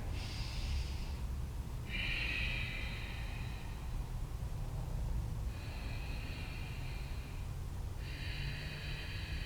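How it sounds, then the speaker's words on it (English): Slow deep breathing during a yoga stretch, four airy inhales and exhales in an even rhythm, close and fairly quiet over a soft background hiss, with no talking. "3 more breaths here."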